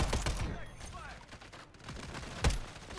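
Video game gunfire from Call of Duty MW3 with a WSP 9 submachine gun build: rapid bursts of shots early on, then a sharp loud shot near the end, mixed with game voice callouts and background noise.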